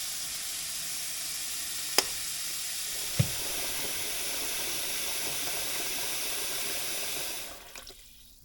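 Water pouring steadily into a pot for chicken broth, with chicken carcasses and thyme, a continuous hiss with two small knocks, cutting off near the end.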